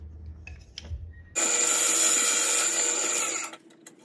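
A bench drill press whirs up loudly and bores steadily into wood for about two seconds, then winds down, with a few faint clicks before and after.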